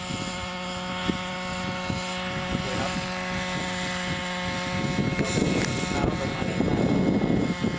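A JR Pro 26cc RC helicopter hovers overhead while a landing spot is picked, its steady rotor and engine drone holding constant with faint wind noise.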